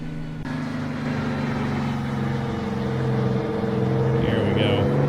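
The heavy Rubber Duck truck engine in American Truck Simulator, heard from the outside view, runs as a steady loud low drone with a rising tone near the end.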